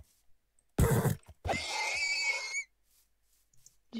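A horse neighs in a video game in two bursts, a short rough snort followed by a longer shrill, wavering whinny, clear against a quiet background.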